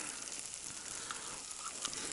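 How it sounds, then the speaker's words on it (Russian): Potatoes fry in a pan on a camping gas stove outdoors in deep frost at about -25 in the taiga, giving a steady, soft, close crackling sizzle with no talking. "Тут жарит картошку."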